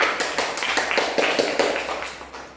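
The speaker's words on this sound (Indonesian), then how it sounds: "Tepuk tangan." A group of children in a classroom claps in a quick, uneven burst of many hands, loud and close, fading slightly toward the end.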